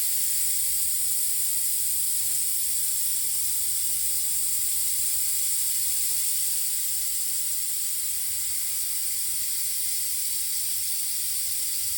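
Vacuum bleeder sucking brake fluid through the brakes of a KTM 65 motorcycle, a steady close hiss of suction that runs unbroken with no talk.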